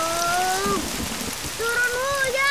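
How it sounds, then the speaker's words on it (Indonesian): Steady rain patters in the background while a voice sings a sustained, wavering melody over it. "Turun hujan. Hujan turun."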